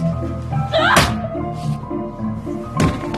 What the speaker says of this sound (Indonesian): Sloan dan Katie datang, memukulkan tongkat baseball ke kepala sheriff.